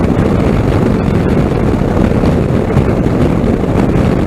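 Strong, steady wind buffets the microphone while riding across the Skyway causeway bridge on a holiday, a continuous loud roar and rumble with no talk.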